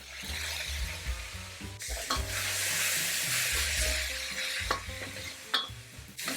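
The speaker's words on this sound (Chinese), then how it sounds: "酱油1小茶匙，从锅边下" Soy sauce is poured down the side of a hot wok holding green beans with fermented black beans, and a broad hissing sizzle swells and holds for several seconds. A few clinks from a spatula cut through.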